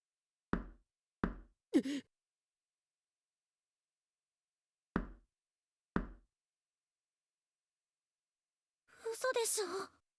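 Door knocks in the horror video game Corpse Party, with sharp hollow thuds falling in an irregular sequence through near silence, followed by a short moaning vocal burst at the end.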